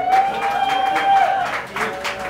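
A TV show studio audience gives a brief round of applause, steady clapping with crowd noise, a sustained whistle-like tone and voices mixed in.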